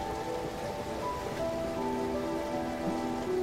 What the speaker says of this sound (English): Sounds like water is draining.